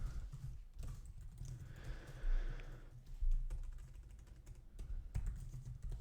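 Keyboard typing at a computer, a steady run of soft, close keystrokes with a few brief pauses and heavier taps, no talking.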